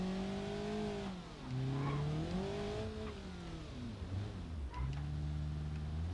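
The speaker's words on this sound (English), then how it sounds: "Engine is starved of oil." Car engine running starved of oil in BeamNG.drive, revving up and down with wavering, sliding tones and harsh rough buzz, dipping briefly then surging again, loud and continuous without talk.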